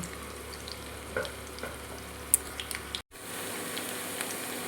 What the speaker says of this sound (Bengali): একটু হাই ফ্লেমে করে একটু ভেজে নেব